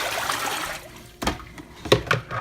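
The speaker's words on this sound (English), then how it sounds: "and then I'll dump this out." Basin of soaking water poured out after hand-washing wool, with a steady rush of water followed by a few louder splashes and clunks close by, no voices.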